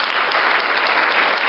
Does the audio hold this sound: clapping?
yes